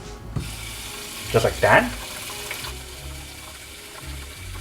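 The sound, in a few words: water poured into Brita water filter pitcher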